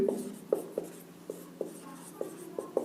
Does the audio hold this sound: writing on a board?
yes